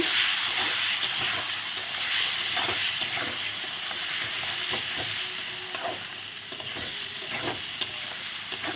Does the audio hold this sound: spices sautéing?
yes